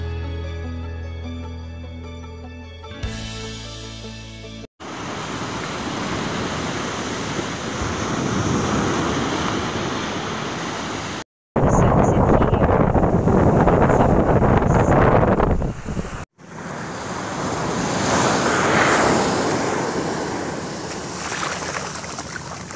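Sea waves wash onto a beach in Zambales in steady surf, mixed with wind buffeting the microphone. The sound is continuous across several cuts, with no talking.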